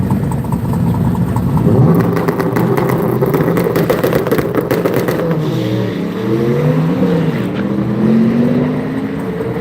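A drag-racing Chevy S10 pickup at Sick Week in Gainesville, Florida, its engine roaring loudly and steadily with rising, revving pitch sweeps as it accelerates, alone without talk.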